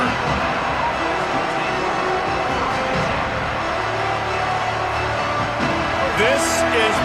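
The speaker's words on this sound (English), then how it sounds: "This crowd ready to make its presence known." A big football crowd roars inside Autzen Stadium, a dense wall of noise running under an announcer's play-by-play commentary throughout.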